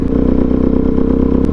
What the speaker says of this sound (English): The exhaust on this bike is sweet